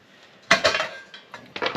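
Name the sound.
Stanley Basecamp cookset pots, pans and sporks being handled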